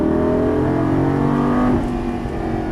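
A Lamborghini Gallardo LP550 accelerating on a track, loud close engine note rising steadily in pitch under throttle, then easing off near the end.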